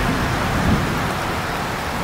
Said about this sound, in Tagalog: O yung kulog naririnig natin.